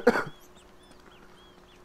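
A single sharp cough from a sick person, loud and close at the very start, then quiet room tone.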